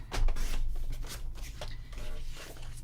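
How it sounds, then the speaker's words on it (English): Scissors cutting out a fussy-cut paper piece for a scrapbook spread, giving a run of soft snipping and rustling paper strokes heard up close at a steady low level. "So let me cut that one out."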